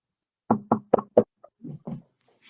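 Four quick, hollow raps on a door in a virtual play game sound close and clear, followed by a few softer, duller knocks after a short pause.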